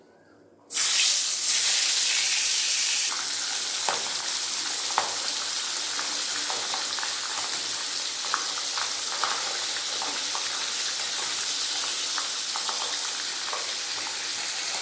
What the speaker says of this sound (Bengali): তেল ভালোভাবে গরম হয়ে গেছে এরপর মাছগুলো ছেড়ে দেবো